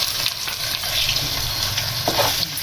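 Mustard seeds sizzle and crackle in plenty of hot oil in a pan while a bitter gourd and onion fry is being made, a steady close frying hiss with faint stirring clinks.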